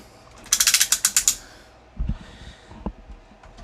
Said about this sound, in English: Got bicep swivel on a nice ratchet.